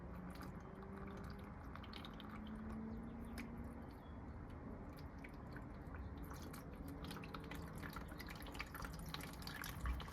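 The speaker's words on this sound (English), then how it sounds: "Let that drain all the way down" Coolant draining from the cooling system of a 1979 C3 Corvette, a faint, continuous trickle and spatter of liquid running steadily throughout with occasional drips and no speech.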